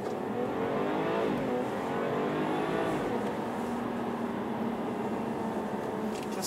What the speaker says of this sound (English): Just hear that six-cylinder scream.